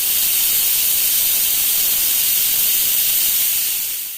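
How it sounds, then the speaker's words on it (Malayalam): A loud, continuous steam hiss from a pressure cooker whistle while cooking ghee rice, steady and bright before tapering off at the end. "ഇപ്പൊ ചോറിന്റെ ഒരു വിസിൽ വന്നിട്ടുണ്ട്."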